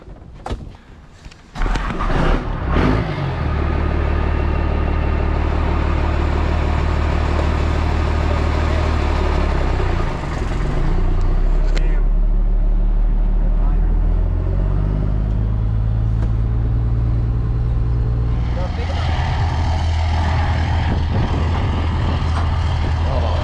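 A 12 valve truck drives to the scrap yard, its diesel engine rumbling deep and loud up close, revving through rising and falling pitch as it pulls away and shifts along the road.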